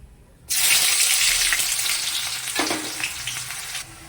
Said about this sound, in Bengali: এবার আমি কুচনো পেঁয়াজটা এর মধ্যে দিয়ে দেবো